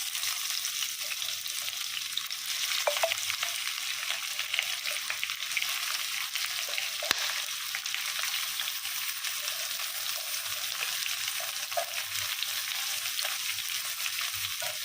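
Onions fry in hot oil in a pan with whole spices, cooked for a chicken kurma, giving a steady, close, continuous sizzle with faint crackles and the odd stir, with no talk.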